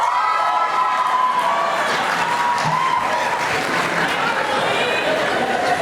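Applause and cheering rise from the audience at a Columbia Journalism School graduation honors ceremony, a dense continuous wash of clapping with crowd voices mixed in, steady and loud throughout.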